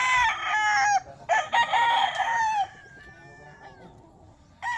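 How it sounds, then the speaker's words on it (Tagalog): A flock of chickens at a provincial farmyard in Calbueg, Pangasinan, with roosters crowing in long overlapping calls and hens clucking, loud and close, fading to quieter clucks before another crow at the end. "Kulang sandaan yata to manok."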